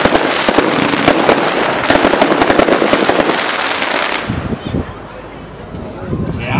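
A Glennenblazer fireworks cake, box number 4, fires a dense, loud barrage of crackling shots for about four seconds, then thins into a few scattered booms and pops.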